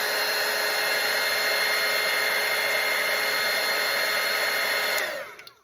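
A hair dryer blows steadily and loudly over a watercolor painting, a constant close whooshing roar that holds for about five seconds before switching off and fading.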